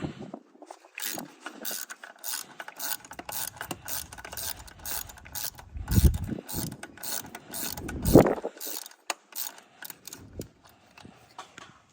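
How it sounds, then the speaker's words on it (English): A hand ratchet backs out T45 bolts on the high-pressure fuel pump of a 2018 Ford Expedition, giving a steady run of quick, close clicks with a couple of heavier scraping pulls mixed in. "I'll just take it off the ratchet at this point, just to give me something to grip."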